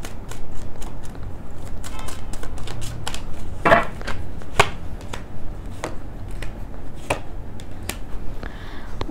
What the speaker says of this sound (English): let me pick out a few more cards